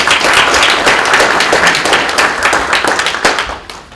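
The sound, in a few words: audience applause at lecture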